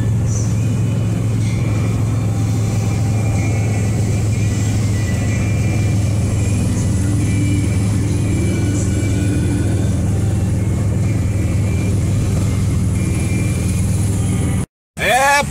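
Heavy car traffic on a highway near Recife, Brazil, forms a loud, unbroken drone of engines and tire noise that holds steady throughout and cuts out briefly just before the end.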